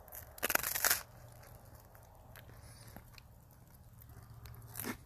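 Crunchy dinner heated on a rock, bitten with a loud crisp crunch in the first second, followed by quieter chewing close up with faint outdoor background.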